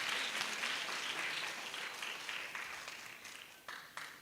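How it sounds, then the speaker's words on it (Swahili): Sustained applause fills a church service, a steady wash of many hands clapping at moderate distance that slowly tapers off. "Tuwapigie makofi"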